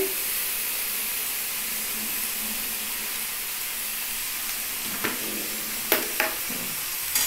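Fish roe mixture with tomato ketchup sautéing in oil in a pan, a steady close sizzle and hiss with a few stirring clinks and scrapes toward the end.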